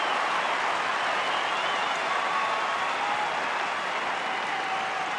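The Essendon crowd roars and applauds after a goal at an AFL match against the West Coast Eagles, a dense, sustained wash of cheering from a large stadium audience with no single voices standing out.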